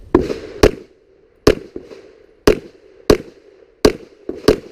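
Pistol shots fired at an outdoor IDPA shooting match at Mecklenburg Wildlife Club, sounding as about nine sharp, loud reports in quick pairs and singles, each followed by a short ringing echo.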